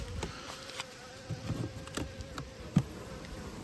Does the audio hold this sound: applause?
no